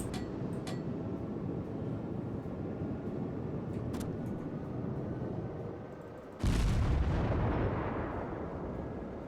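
Warship guns fire in World of Warships, with a muffled rumbling boom building steadily and then a sudden loud blast that rolls on and fades over the last few seconds.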